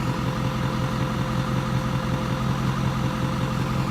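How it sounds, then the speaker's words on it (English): A truck engine idles at a steady low hum, joined by a constant air-conditioning fan whir, with no talking. "So right now the truck is on, the AC is running."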